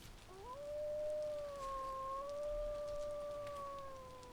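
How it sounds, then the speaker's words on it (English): Several wolves howl in Vintage Story, long rising and sustained tones overlapping in a drawn-out chorus that sounds fairly close, over a soft background hiss. "And that is a lot of wolves."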